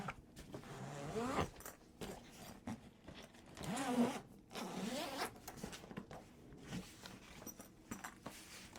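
A zipper pulls open along the top section of a sewing machine bag in a few quick, raspy strokes, close up but fairly quiet, with no talking.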